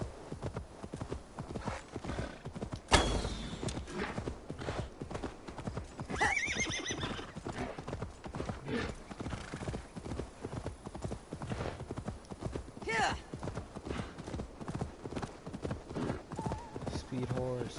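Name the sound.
horse galloping and neighing in video game Assassin's Creed Valhalla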